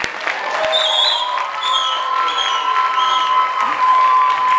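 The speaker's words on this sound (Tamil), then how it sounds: "எங்கே உங்கள் கரகோஷங்கள்?" An audience applauds young dancers at a stage performance, steady crowd clapping under sustained tonal music or voices throughout.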